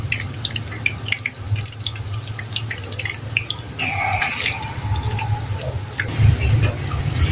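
Kofta meatballs for biryani fry in hot oil, giving a steady close sizzle with scattered pops and crackles and a low hum underneath.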